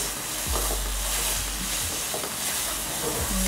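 Steady, close sizzle of shrimp being stir-fried in a wok for lo mein, marked by several brief scraping knocks as the pieces are tossed, with no talking.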